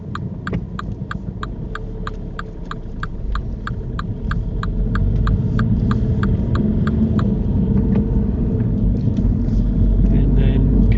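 During a driving lesson, a car rolls forward off the brake with a low engine rumble that swells, while a quick regular ticking runs through the first seven seconds.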